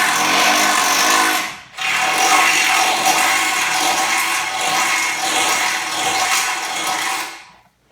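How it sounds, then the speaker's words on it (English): Power drill with a 1/2-inch bit boring a mounting hole for an Addictive Desert Designs Stealth Fighter front bumper on a Jeep JL, a loud steady whine near the mic, pausing briefly before running again. "you're going to need a 1/2-inch drill bit"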